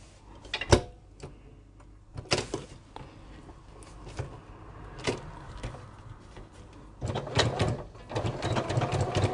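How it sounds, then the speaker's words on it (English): A sewing machine stitches down the short sides and top of a fabric bag in short intermittent bursts, with quiet clicks and handling noises between runs. "we're just going to sew down the two short sides and the top, leaving the bottom"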